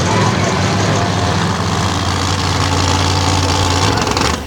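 Monster truck engine, including the trucks Brutus and one driven by Kohler, roaring loudly and steadily at a freestyle arena show in Evansville, a constant deep rumble with no pauses.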